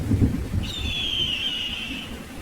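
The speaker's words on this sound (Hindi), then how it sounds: "बारिश और तूफान इतना तेज था कि उसमें लाडो का घोंसला जोर जोर से हिल रहा" A cartoon thunderstorm with heavy rain and strong wind lashes a jungle. A low rumble fades under a steady wash of rain, and a long high whistling tone cuts through in the middle. No voices are heard.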